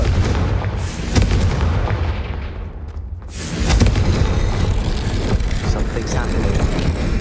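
A heavy, booming explosion from the Confringo blasting curse in Hogwarts Legacy, deep rumbling blasts with a sudden dip and a second surge, layered under game music and voices.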